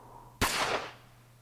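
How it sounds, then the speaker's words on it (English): A single sharp gunshot in the visual novel Chaos;Head Noah cracks out of a quiet low hum, loud and close, with a bright snap and a short reverberant tail that fades within half a second. "Then Ben heard a gunshot."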